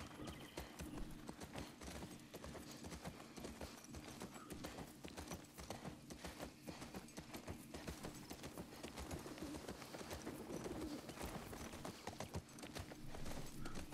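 Horse hooves clip-clop at a steady walking rhythm while riding in the video game The Last of Us Part II, with soft ambient birdsong in the background.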